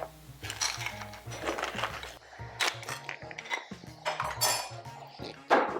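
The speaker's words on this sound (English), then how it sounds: "And then we'll just put it in our serving dish." Clams in garlic, olive oil, wine and lemon sauce tipped from a pan into a serving dish, with a run of close metallic clinks, scrapes and shell clatters, uneven and busy, with no talking.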